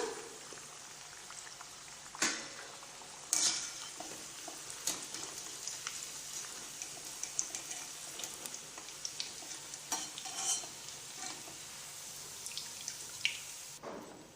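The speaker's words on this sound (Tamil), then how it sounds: "மீதி இருக்கிற எல்லா மாவையுமே இதே மாதிரி தட்டி எண்ணெயில் போட்டு சுட்டு எடுத்துடலாம்" Lentil masala vada fritters fry steadily in hot oil, a continuous crackling sizzle with scattered pops and a few sharper clicks, moderately quiet and close, with no voices.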